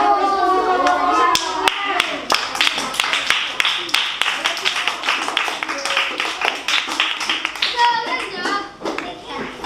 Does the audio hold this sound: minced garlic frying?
no